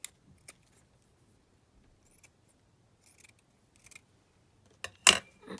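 Scissors snip through ivory lace in a few short, crisp cuts spaced apart, with one louder, fuller snip near the end and quiet pauses between.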